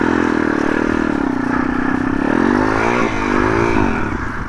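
An MRF 140 RC motorcycle engine drones and climbs in pitch as it accelerates, a loud, close, sustained whine with a slight dip midway.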